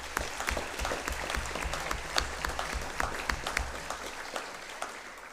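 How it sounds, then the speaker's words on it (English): Audience applause at a school academic awards ceremony for Years 7 to 11, steady dense clapping from a seated crowd of students and families, moderately distant and sustained throughout. "Give yourselves a round of applause, please."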